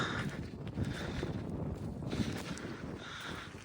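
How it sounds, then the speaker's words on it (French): Wind buffets the microphone in rough, rumbling gusts, steady and close throughout. "Désolé pour le vent."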